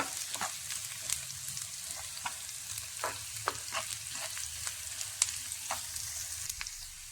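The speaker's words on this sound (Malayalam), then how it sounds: "എണ്ണ ചൂടാകുമ്പോൾ അതിലേക്ക് പകുതി സവാള അരിഞ്ഞത് ഇട്ട് കൊടുക്കാം ഒന്ന് വഴറ്റി കൊടുക്കാം" Chopped onion sautéing in hot coconut oil for a Kerala theeyal, a steady soft sizzle broken by regular scraping stirs of a spoon in the pan, close and alone with no voices.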